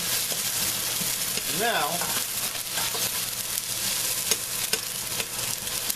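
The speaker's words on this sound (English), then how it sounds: "Let the onions cook a little bit." Onions sizzle and fry in a hot pan for chicken adobo, a steady bright crackle throughout with occasional stirring scrapes and a brief spoken word over it.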